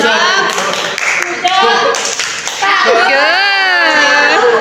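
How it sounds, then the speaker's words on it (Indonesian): A classroom of students gives a rhythmic patterned cheer-clap for a group during a microteaching lesson, with children's voices chanting and talking loudly throughout and claps mixed into the noisy room. "Tepuk hujung untuk kelompok visual."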